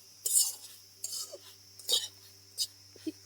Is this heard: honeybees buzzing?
no